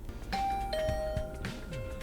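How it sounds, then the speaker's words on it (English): A doorbell rings inside the video game The Hundred Line: Last Defense Academy, a clear electronic ding-dong chime with sustained tones sounding over a busy background of game music and effects. "my doorbell started ringing"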